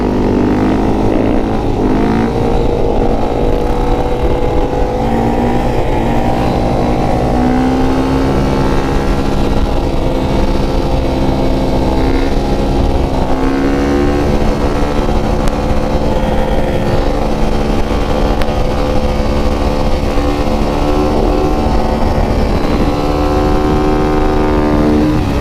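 A motorcycle engine roars continuously and loudly while wheelieing up a steep hill, revs rising and falling in sweeping waves for the whole stretch, close up with wind noise and no talking.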